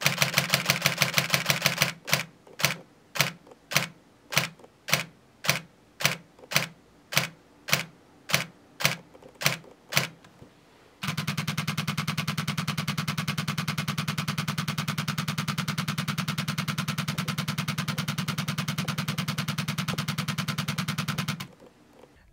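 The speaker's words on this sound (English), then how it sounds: "the Nikon D750, the shutter clap is a lot louder than the Nikon Z6II" Nikon D750 and Nikon Z6II camera shutters fire in burst mode: first a run of sharp, evenly spaced loud clacks, then a fast, dense stream of quieter rapid clicks lasting about ten seconds.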